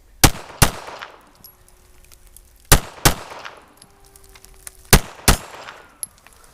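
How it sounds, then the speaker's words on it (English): Pistol shots fired in closely spaced pairs, three pairs in all, each crack sharp and loud with a short ringing tail, recorded outdoors at a shooting range. "fire 2 shots, see if the gun comes back to its point of aim"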